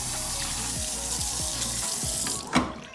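Water runs steadily from a pull-down kitchen faucet on a Pfister fixture into the sink, a close, even rush that cuts off near the end with a brief clunk.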